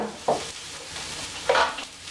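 Cauliflower dropped into a hot pan of fat with onions and garlic, giving two short bursts of sizzle and stirring scrapes over a steady low frying hiss, close and fairly quiet.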